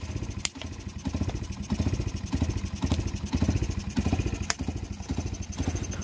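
A Yamaha XTZ125 motorcycle engine runs roughly on a temporary fuel setup, its uneven, pulsing idle chugging steadily and close by with loose mechanical clatter and no talking.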